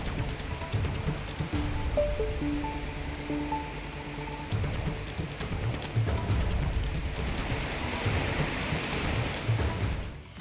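Steady rain falls at Badrinath Dham in the Himalayas, a dense, continuous hiss of drops with low rumbling thunder-like undertones throughout, loud and close with no voices.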